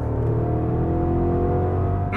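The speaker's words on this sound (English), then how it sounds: "That is a lovely engine note." A 2025 Audi SQ8 SUV accelerates, its engine giving a smooth, steady low drone with rising tonal harmonics, heard from inside the cabin at moderate level with no talking.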